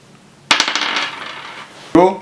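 Small plastic or wooden score tokens and dice from the board game Abraca What? tumble and clatter onto a surface in two close, sharp bursts of rattling pieces.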